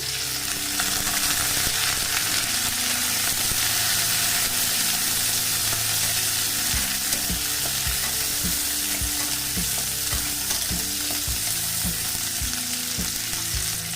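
Onion and garlic fry loudly in a pan for a spinach vorta, a dense continuous sizzle close up, with a run of regular soft knocks in the latter half as the pieces are moved about.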